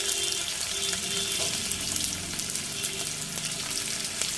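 Cumin paste sizzling in hot oil in a pan for a village-style aar fish curry, a dense continuous crackle with faint clinks and stirring, close and steady throughout.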